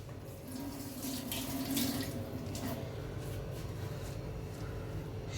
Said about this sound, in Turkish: Hemen buradan birazcık maydanoz yapacağım. Yıkıyorum hemencik.